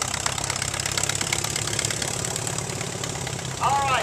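A 1938 Allis-Chalmers WC tractor engine idles with a steady low, knocking thump at a parade of power, ending with a brief louder surge.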